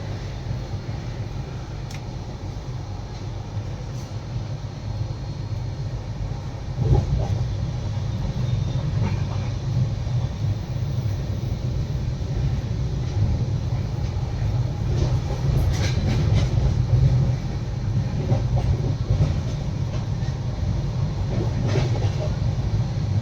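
The Tejas Rajdhani Express runs through a curve on the Delhi to Mumbai line, heard from inside as a steady loud low rumble with faint squeals and clicks over the top.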